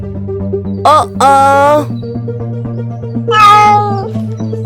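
A kitten meows several times in short, bright, rising cries, close and clear over a steady background of soft music.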